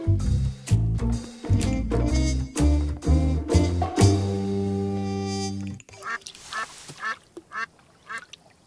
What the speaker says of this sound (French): Voyons si on entend des canards faire coin-coin et de l'eau